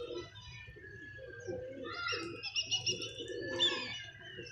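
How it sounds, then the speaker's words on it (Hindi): Pigeons perched on a house rooftop in cold winter weather give soft, repeated low coos that swell in the middle, alone with faint higher bird chirps above. "ये ऊपर वाले कबूतर बैठे हुए हैं"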